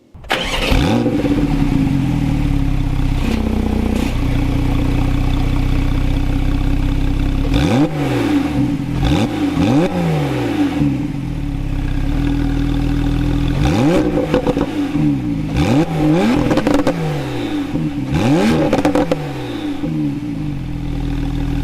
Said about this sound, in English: the center exhaust outlets. Let's take a listen.